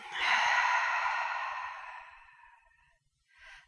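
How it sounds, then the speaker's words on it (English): A single long, deep exhale from yoga breathing, close and breathy, swelling quickly and then fading over about two and a half seconds, followed by a softer short breath. "And take one more deep breath in here. Exhale, let it go."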